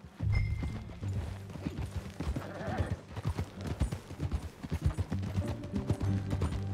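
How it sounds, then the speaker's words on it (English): Horse hooves clip-clop steadily in Red Dead Redemption 2, a close, even rhythm of hoofbeats during a ride, with a brief whinny and game dialogue voices layered over the steps. "That a new horse?"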